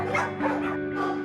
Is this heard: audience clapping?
no